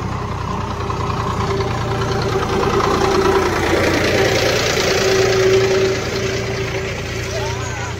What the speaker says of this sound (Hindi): अभी ट्रैक्टर आ गया